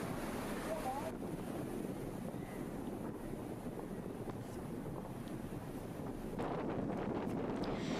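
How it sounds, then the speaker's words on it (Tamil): Strong wind roars across the microphone on a coast in Mannar district, with the rush of rough sea waves beneath it; the noise stays loud and steady throughout and swells near the end. "மன்னார் மாவட்டத்திலும் இன்றைய தினம் கடும் காற்றுடன் கூடிய காலநிலை நிலவியதாக பிராந்திய செய்தியாளர் குறிப்பிட்டுள்ளார்."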